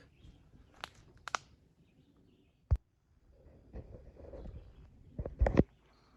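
Short, scattered bird chirps sound in a Midwest forest near a campsite, joined by one sharp knock and some faint rustling nearby. The calls come in brief bursts with quiet gaps between them.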